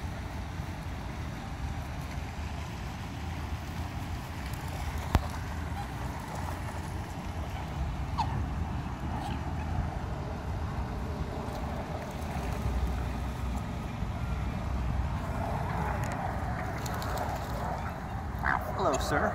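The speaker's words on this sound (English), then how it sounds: "A couple of them are mallards." Mallard ducks quack in scattered bursts at a Disney theme park pond, fairly faint among a steady outdoor wash of water and crowd murmur, with occasional honks rising near the end.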